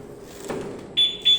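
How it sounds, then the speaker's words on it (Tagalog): A Yamaha Mio motorcycle's anti-theft alarm responds to being moved, giving two short, loud, high-pitched electronic beeps in quick succession after a faint rustle. "tapos pangalawang galaw niyan, mag-alarm siya."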